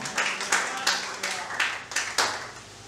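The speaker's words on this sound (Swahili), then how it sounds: "Mpige Yesu makofi" A church congregation claps in a steady rhythm, with about seven or eight sharp, close hand claps under murmuring voices.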